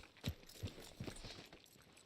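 Horse hooves clip-clopping in Red Dead Redemption 2, four or five distinct, evenly spaced hoof strikes at a slow walk, close and clear over a faint ambient bed.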